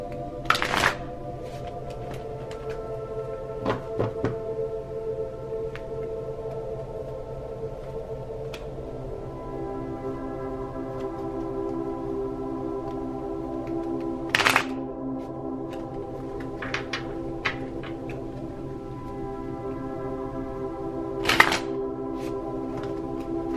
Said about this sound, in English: I hope the shuffling's not too loud.